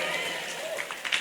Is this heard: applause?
yes